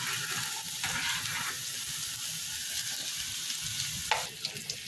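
Onions frying in oil for Egyptian koshari, a steady close sizzle with bubbling crackle throughout and a few sharper pops near the end, no voices.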